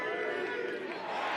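Crowd at Klockner Stadium roaring and cheering during a Maryland vs Virginia men's lacrosse game, a dense steady wash of voices with no single voice standing out.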